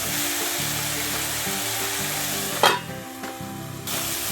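Tomatoes and garlic fry in a pan for a chutney, a steady close sizzle with stirring scrapes and one sharp clatter midway.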